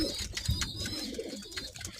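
Homing pigeons coo inside a loft, with a short low coo close by amid rustling, wing flutters and busy background bird noise.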